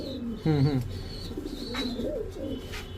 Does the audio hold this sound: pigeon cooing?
yes